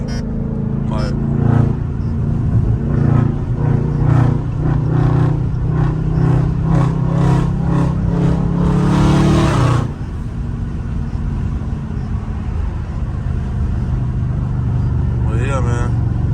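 A catless Dodge Scat Pack in track mode revs with a harsh, rising exhaust roar and crackling pops, then cuts off abruptly and settles into a lower rumble, with people talking over it.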